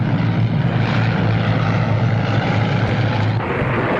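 Steady propeller airplane engine drone, continuous and fairly loud throughout, as a plane comes in low to land in fog; no voices.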